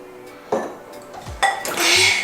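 Dishes, pots and cutlery clatter and clink close by as a family kitchen is tidied and the dishwasher unloaded, with several sharp knocks followed by a denser run of rattling as items are put away.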